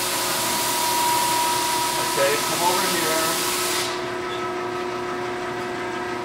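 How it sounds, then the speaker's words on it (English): A steady loud grinding whir of a drum sander sanding wood runs throughout, with a steady hum underneath and no dust exhaust running; someone speaks briefly, and the high hiss drops away near the end. "You hear the sanding?"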